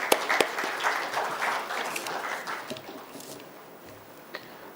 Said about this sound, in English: Here's round of applause for Mr. Ramkumar.